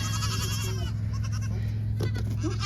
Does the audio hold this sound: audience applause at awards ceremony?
no